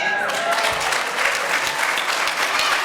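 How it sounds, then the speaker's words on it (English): A live audience claps at a panel event featuring Black women leaders: dense, steady applause that stays loud and even for about three seconds, with no voices standing out. "It's okay to clap."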